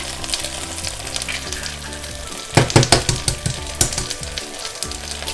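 Eggs poured into hot oil for a crispy Thai fried shellfish dish: a steady crackling sizzle that swells into louder spattering bursts as the egg hits the pan, close and continuous.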